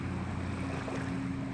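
A lawnmower drones steadily in the distance near a Lake Huron shoreline, a low, constant engine hum with wind over the microphone and no talking.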